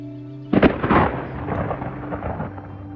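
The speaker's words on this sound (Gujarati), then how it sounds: "આકાશમાં વીજળી કડકતી હતી" A thunderstorm sound effect: a sudden loud crack of thunder breaks in, then rolls and rumbles away over a bed of rain.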